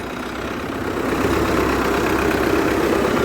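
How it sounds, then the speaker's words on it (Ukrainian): A heavily worked farm tractor idles nearby, a steady low, rough engine rumble that grows slightly louder after the first second and then holds constant, with no speech. "Цей трактор постійно зайнятий, загружений роботою."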